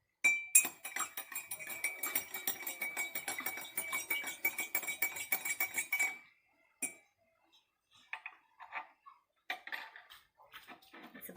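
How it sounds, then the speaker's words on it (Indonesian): A spoon stirs oil and water, clinking rapidly and steadily against the container for about six seconds, then a few sparse, quieter taps follow after a pause. "kemudian aduk menggunakan sendok."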